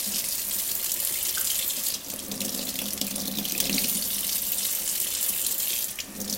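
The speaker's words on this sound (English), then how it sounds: "when I put my hand in the water" Tap water running through an OPURA shower filter and pouring over a hand, a continuous close, bright splashing stream with slight changes in flow as the hand moves.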